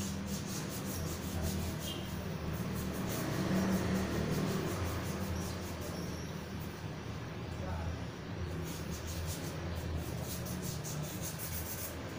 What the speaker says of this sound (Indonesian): Kalau untuk di sini pakai amplas kasar tidak masalah